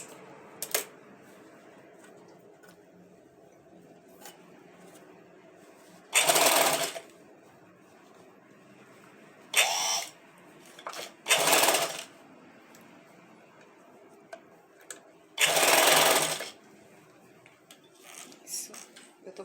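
Sewing machine stitching a seam on flip-flops, running in four short loud bursts of a second or less, separated by quieter handling noise and faint clicks.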